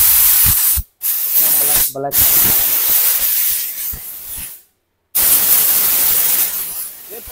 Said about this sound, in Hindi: उसके बाद हम एयर गन का यूज करेंगे